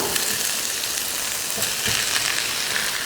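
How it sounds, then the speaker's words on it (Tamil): Ground soya sizzling in hot oil with masala spices, a steady broadband crackle of frying with faint stirring scrapes, close and continuous with no voices. "ஒரு 3 நிமிஷத்துக்கு இந்த மாதிரி அந்த எண்ணெயிலேயே வதக்கி விடுங்க"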